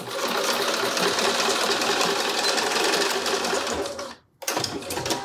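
Sewing machine set to a longer 3.5 stitch runs steadily through thick fabric for a tote bag, a dense, loud continuous whir that cuts out briefly near the end, then starts again.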